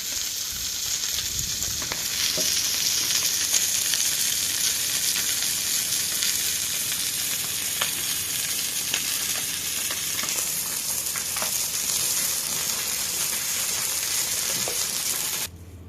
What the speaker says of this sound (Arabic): شوينا كده اهوت السمك بشوية زيت